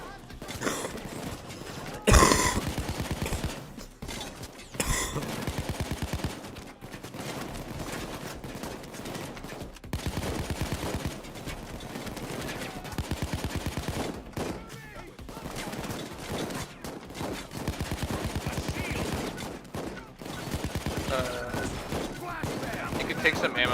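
Sustained gunfire during a police assault in a video game, dense overlapping bursts and shots with clattering impacts, loud and continuous, with voices speaking over the shooting.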